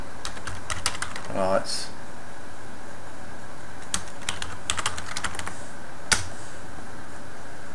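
Computer keyboard keys click in short quick bursts with pauses between them, close and distinct, while someone speaks briefly.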